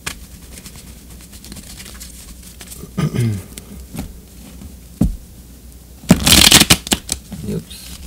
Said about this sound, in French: je continue à brasser les cartes un petit peu